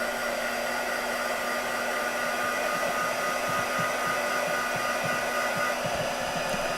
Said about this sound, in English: This is an embossing gun.